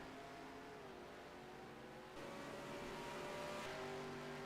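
A race car engine in the NASCAR Racing 2003 video game revs steadily and loudly, its pitch holding and then climbing in a louder second half, with no talk over it.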